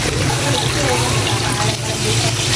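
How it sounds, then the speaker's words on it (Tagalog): Water poured into a cooking pot of pork afritada with tomato paste, a steady broad splashing pour running for a couple of seconds, fairly loud and close, over a low kitchen hum. "Maglalagay ako ng konting tubig guys para sa pagpalambot."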